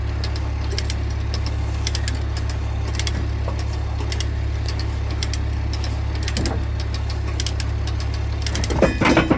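A crane and skid steer running at a worksite while lifting an excavator track adjuster, a steady low diesel engine drone with faint metallic knocks and clanks near the end.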